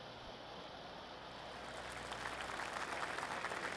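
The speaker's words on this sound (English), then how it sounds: "golf clap" Soft crowd applause from a golf video game (PGA TOUR 2K21, TPC Scottsdale) rises gradually from a hush to a steady, moderate patter of clapping, heard at a distance with no talking.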